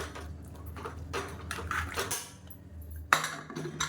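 Metal clatter and clinks of cookware as a lid is set onto a pressure cooker in a home kitchen, with scraping and a sharp metallic knock near the end, close and fairly quiet.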